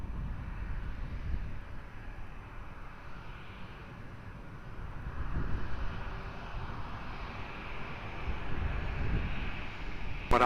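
A plane on approach to runway 20 at Lisbon Airport gives a steady broadband engine roar over about ten seconds, with wind rumble swelling and easing, distant and continuous, and no talk.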